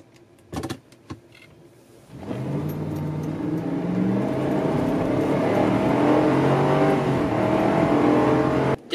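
An SUV starts and drives on the road after a few brief clicks and knocks inside the cabin; the engine rises into a steady, loud drone with shifting pitch as it accelerates.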